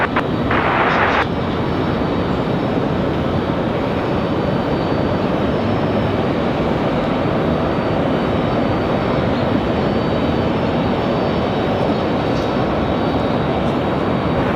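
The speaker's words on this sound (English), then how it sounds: "American 2083 coming in from Washington, D.C., and A319 coming in from DCA" An American Airlines Airbus A319 arriving at Raleigh-Durham airport from Washington, D.C. makes a steady, loud broadband jet roar that holds for the whole stretch without letting up.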